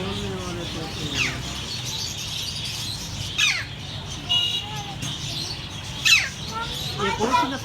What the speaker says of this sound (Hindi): बोलने वाले तोते हैं।